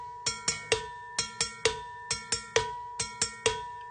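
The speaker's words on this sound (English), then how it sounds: "Notice I am going the mouth of the cowbell first, and then I'm going to the tip of the cowbell." Cowbell struck first at the mouth and then at the tip in a Latin groove, crisp metallic hits repeated in short groups of three, each with a bright ring, close and alone.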